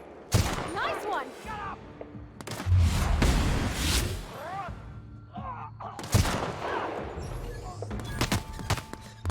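Bursts of gunfire in The Outer Worlds, with sharp repeated shots and heavy thuds coming in clusters at the start, the middle and near the end of the clip, loud and close, and game voices talking in between.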